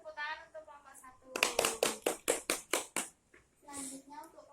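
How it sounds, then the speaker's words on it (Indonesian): A class claps in a quick, even rhythm of about eight sharp, loud claps for the first presentation group, with a speaking voice just before and after. "Ini tepuk tangan untuk kelompok 1."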